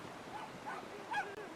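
A dog in a Tamil story video game gives a few short, faint yips and whimpers over a soft background hiss, brief and somewhat distant.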